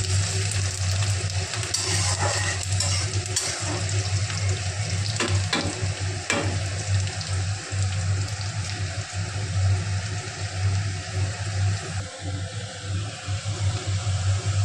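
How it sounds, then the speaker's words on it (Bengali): Onion frying in oil in a pan for a vegetable curry, a steady continuous sizzle that holds at an even level throughout, with a few brief scrapes and clicks of stirring along the way. "তেলে পেঁয়াজটা লাল লাল হয়ে ভাজার"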